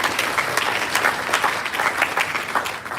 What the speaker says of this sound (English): I'll give the Pandits a round of applause tonight.